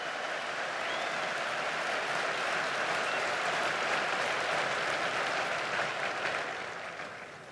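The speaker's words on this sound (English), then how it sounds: "how about a round of applause for the class of 1974 and their outstanding dedication to the class of 2024" Sustained audience applause fills a large outdoor space at a military academy graduation and commissioning ceremony, a dense wash of clapping that holds steady for several seconds before gradually tapering.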